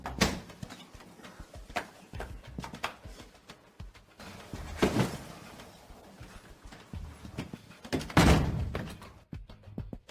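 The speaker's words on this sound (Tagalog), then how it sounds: "Buksan mo ang pinto." A door opens with a few heavy thunks and knocks, one loud burst near the middle and another toward the end, over quiet room tone.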